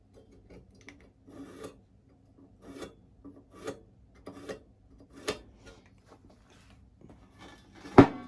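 Scribing 45-degree lines along metal lengths for a coffee table brazier, producing a series of faint, short scratching strokes at a slow, uneven rhythm, ending in one sharper tap.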